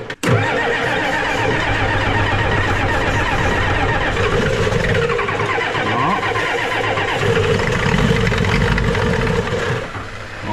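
A Ford 7.3 IDI diesel engine cranks and catches, then settles into a loud, steady, clattering idle close by, with a brief dip near the end and no talking over it.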